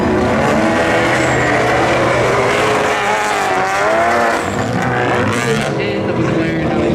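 A McLaren and a Volkswagen GTI launch side by side at a spectator drag race, engines roaring loud and near with rising revs and tire noise, while an announcer talks over the cars.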